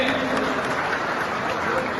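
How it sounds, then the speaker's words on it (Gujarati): A crowd claps at a political gathering of party workers and office-bearers, a dense continuous wash of applause from many hands, steady and moderately loud throughout, with some faint talk mixed in. "સાથોસાથ મંચ ઉપર આપણા શહીદાન તાળીઓના સાથે વધાવીએ"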